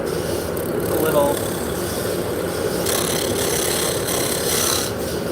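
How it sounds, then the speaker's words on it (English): A shearing cut cleans dried glue from the bottom of a wooden piece before the shaft is tapered, giving a steady, close rasping scrape that runs unbroken with slight swells in intensity. "I'm going to do a shearing cut just to clean up the bottom there."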